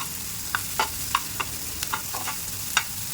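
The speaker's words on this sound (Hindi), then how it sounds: "इसमें मैं डाल दूँगी प्याज, शिमला मिर्च, और इसको भी कर लेंगे अच्छे से हम सौटे।" Chopped onion and bell pepper sauté in a pan, a soft steady sizzle beneath scattered light scrapes and clicks of a spoon stirring, fairly quiet and without talk.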